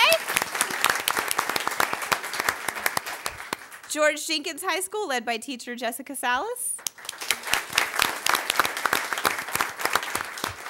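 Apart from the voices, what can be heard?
school board meeting audience applause for teachers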